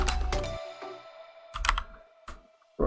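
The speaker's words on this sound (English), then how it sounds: "I'm a very slow typer, I apologize." Keys on a computer keyboard are tapped slowly in short separate bursts with pauses between them, close and clear, while simple code is entered.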